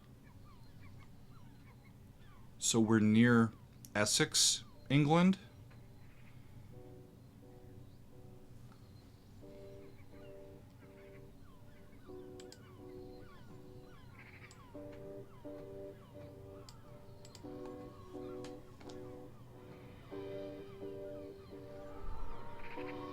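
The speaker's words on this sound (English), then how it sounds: "There's the birds." Geese honking on a marsh near Essex, England, opening a song: a few loud, close honks at the start, then a steady wash of birdsong and music with a faint voice over it.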